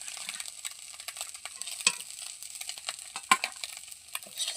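Small chuno fish fry in a pan with a faint, steady crackling sizzle and scattered sharper pops and spatters throughout, with no voices.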